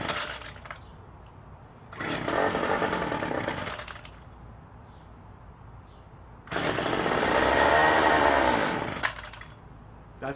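A small gasoline engine runs with too much throttle, surging up into two long loud raspy bursts and dropping back to a quieter idle between them, heard up close.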